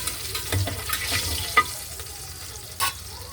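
Mustard seeds and cumin sizzle in hot oil for a dal tempering, a soft continuous crackle with a few sharper pops.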